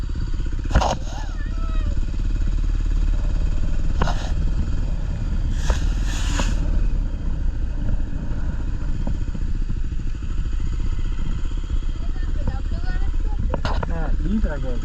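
A motorcycle rides along the road toward Anuradhapura, its engine droning steadily and close throughout, with wind rush and a few brief clattering sounds.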